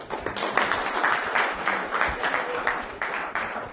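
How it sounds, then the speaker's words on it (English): A live audience at an energy hypnosis pain-relief demonstration claps steadily, a fairly dense, close round of applause with uneven bursts that holds for several seconds. "Give a big round of applause."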